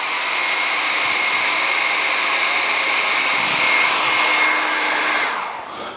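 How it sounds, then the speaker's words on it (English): A hair dryer roars steadily at high speed with a whooshing airy hiss, then winds down and fades near the end. "I'm going to take this blow dryer and I'm going to turn it on to high"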